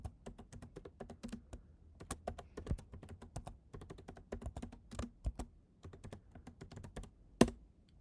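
Rapid clattering keystrokes on a computer keyboard as a travel destination is entered, steady uneven tapping running throughout with one sharper louder key press near the end, no voices.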